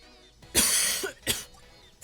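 A person coughs twice in quick succession, close to the microphone: a longer, harsh first cough and a shorter second one.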